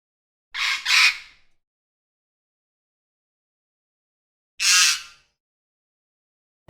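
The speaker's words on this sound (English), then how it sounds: "Now we see the great green macaw" A great green macaw at Bird Paradise in Singapore gives harsh, raspy squawks: a quick double call, then after a pause a single loud one, clear and near with silence around them.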